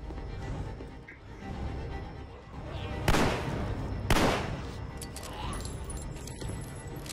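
Gunfire in The Walking Dead: Survival Instinct, a zombie game in herd mode, with two sharp loud shots about a second apart over a steady background of game ambience.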